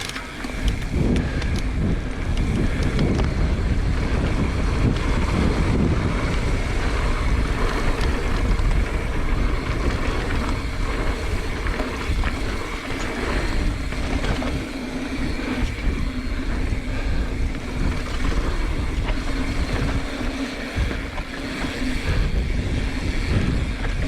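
Gusty wind of about 10 to 15 knots whips up dirt and dust on a mountain bike trail. Steady loud roaring buffets the microphone for the whole stretch, and there is no speech.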